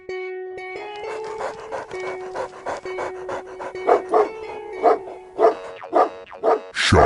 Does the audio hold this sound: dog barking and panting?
yes